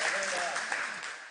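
Brief applause from a church congregation fills the room, a dense patter of clapping with a voice heard faintly underneath.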